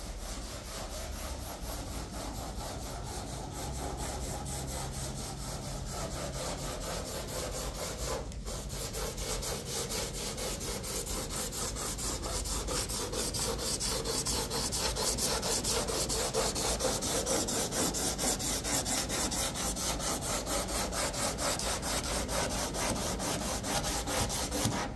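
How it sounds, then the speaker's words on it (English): Hand sanding on the body of a 1963 Buick Riviera with 100 grit paper, a steady continuous abrasive rasping that stays loud and even for the whole stretch, with no talking. "Alright, so we got Heath sanding now in 100 grit on the Riviera."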